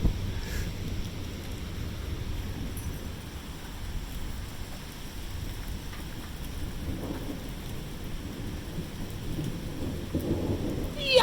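A Michigan electrical thunderstorm rolls through at night, with steady rain and a continuous low rumble of thunder that swells in places and builds sharply at the very end.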